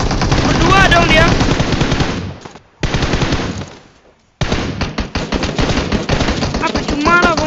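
Rapid automatic gunfire in the mobile game PUBG Mobile, loud and close, firing in long bursts broken by two short pauses, with faint voices mixed in.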